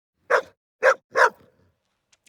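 An old dog gives three sharp, close barks in quick succession, then falls quiet before a faint start of another sound.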